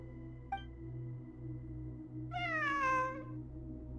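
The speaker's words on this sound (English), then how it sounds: "It really is a cat." A cat meows once in the video game Genshin Impact, a clear drawn-out descending meow near the middle, over a steady low in-game ambient hum with a faint click before it.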